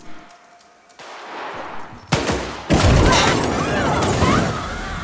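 Gunfire inside a building in The Outer Worlds video game, starting as faint scattered shots and swelling into loud, sustained bursts of rapid fire with booming impacts.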